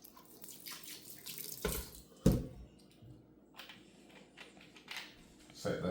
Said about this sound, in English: So like I said before, we're gonna rinse it off.